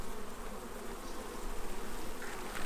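Honey bees buzz in a dense, steady drone during a beehive inspection on an organic farm in Portugal, close and continuous with slight swells in loudness and no talking.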